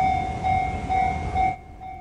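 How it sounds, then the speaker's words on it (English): A Japanese railway level crossing bell rings in a steady, repeating ding pattern over the rumble of a passing train, the train noise cutting off abruptly near the end while the bell continues. "The bell sounds are strangely entrancing."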